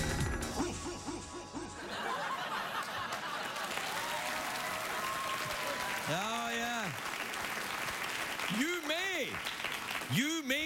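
Late-night talk show studio audience clapping under scattered laughter, a steady wash of applause with voices speaking over it and brief laughs rising near the end.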